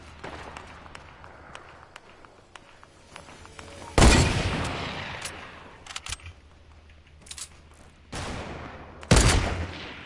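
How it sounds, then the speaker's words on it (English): Gunfire in the video game Fortnite, scattered cracks at first, then several loud bursts of rapid shots in clusters, fairly close and harsh, with little else around them. "all the shooting. I hear it."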